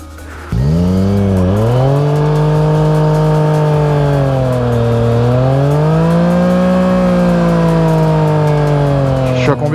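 A motorcycle engine starts up abruptly and runs close and loud, its tone rising and falling slightly as it idles and revs steadily for several seconds before cutting off.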